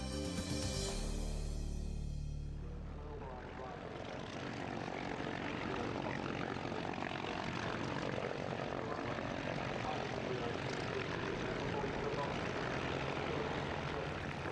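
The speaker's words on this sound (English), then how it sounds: "The first aircraft in this magnificent collection of Spitfires taxiing out there is a Mark 5B, F5B fighter version." Supermarine Spitfire Mark 5B fighter with its Merlin engine taxiing at the Duxford Flying Legends air show, a loud continuous propeller roar, strongest at the start and then holding steady, with a commentator talking over it.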